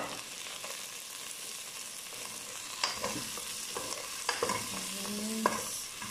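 Vegetables and shrimp stirred as they simmer in coconut milk, a steady close bubbling sizzle broken by several sharper scrapes and knocks of the utensil against the pot toward the end, with no talk.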